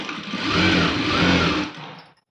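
A sewing machine stitching a blouse hums up to speed, runs steady and close for about a second and a half, then winds down and stops.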